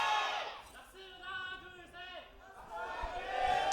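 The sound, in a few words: ROX Tigers team cheer from their booth at esports match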